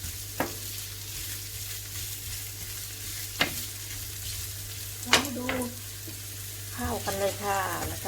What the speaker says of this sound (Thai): ผัดทุกอย่างผัด เข้ากันนะคะ